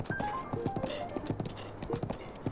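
Horse hooves clip-clop on the ground in The Legend of Zelda: Breath of the Wild, giving a quick, fairly regular run of close, crisp hoofbeats, soft overall, with light game music tones behind them.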